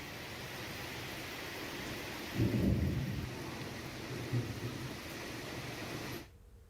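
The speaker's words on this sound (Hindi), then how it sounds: "तेज बारिश के कारण सड़कों पर गाड़ियों की आवाजाही में परेशानी हो रही है" Heavy monsoon rain pours steadily in Bihar, a dense continuous hiss, with a deep rolling thunder rumble swelling in midway and a smaller roll after, before the sound cuts off abruptly.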